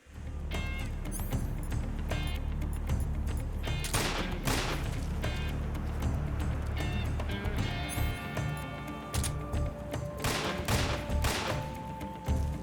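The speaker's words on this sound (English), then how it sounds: "Weapon. AK-47. I'm gonna shoot him with this." AK-47 fire in Metal Gear Solid 3, loud sustained bursts over dense game music and ambience, with repeated sharp shots clustering throughout.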